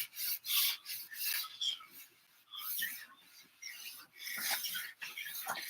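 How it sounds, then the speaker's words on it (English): Wood stain being rubbed into wood by hand and the excess wiped off, heard as close, uneven raspy rubbing strokes that come in bursts with brief pauses. "Kind of rub it in. And this pulls all that excess stain off."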